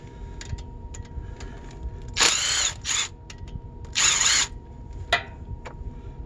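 A power drill or impact tool whirs in two loud bursts while removing a rod bearing cap from an engine, with a shorter burst between and a few light metallic clicks and ticks around them, close up with no talk.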